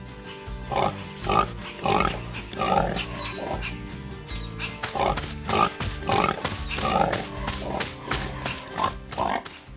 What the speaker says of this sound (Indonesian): Babi-babi berwarna pink sedang bermain di sekitar gudang merah putih dengan tumpukan hai kuning.